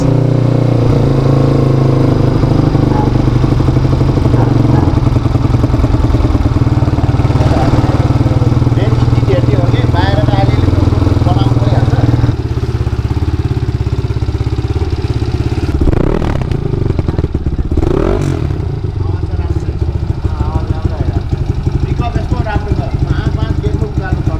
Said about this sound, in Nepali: ल फाइनली बाइक स्टार्ट भइसकेको छ है गाइस